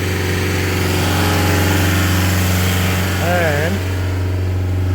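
A Mitsubishi Fuso Canter truck diesel engine runs steadily at 2700 rpm during DPF cleaning, a loud constant drone with a brief rising whine partway through and a voice murmuring one word.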